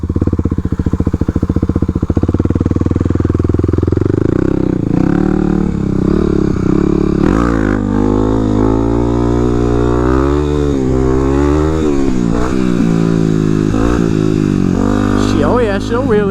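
A Kawasaki KLX300 Supermoto motorcycle rides a motocross track, its single-cylinder engine loud and close, rising and falling steadily as the rider revs and shifts through the run, with rattling and scraping mixed in.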